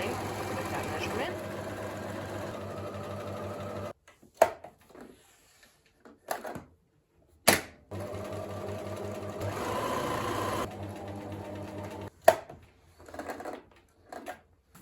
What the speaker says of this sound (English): just sewed it down in a straight line with that measurement